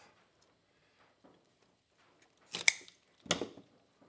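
Thick roots of an Australian native plant snipped during repotting: two separate crisp cuts a moment apart, close and fairly loud after near silence.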